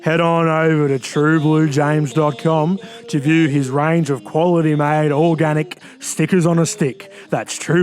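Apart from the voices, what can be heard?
No everyday noise stands out behind the speech.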